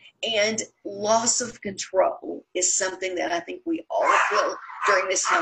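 Pet dogs bark in the background of a home during an online health talk, their yaps mostly buried under a woman's continuous speech.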